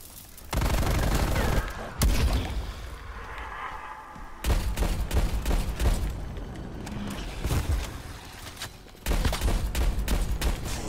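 Rapid gunfire in Call of Duty Cold War zombies mode on Nuketown '84, loud bursts of automatic shots separated by brief quieter gaps, with clattering and booming effects in between.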